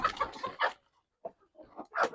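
Native chickens being fed cluck in short bursts, a few fairly close calls separated by pauses, quiet overall.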